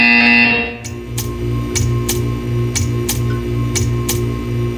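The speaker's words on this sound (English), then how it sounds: "You will hear a buzzer." A buzzer in the video game Portal 2 sounds in a steady run of short, evenly spaced electronic pulses, about one every half second, over a low humming electronic drone.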